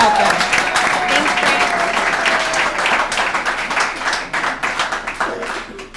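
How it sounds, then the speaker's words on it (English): Warm applause from an audience at an alumni recovery meeting welcoming the main speaker, many hands clapping in a loud continuous wash that thins and tapers toward the end. "Let's give him a round of applause and a first round welcome"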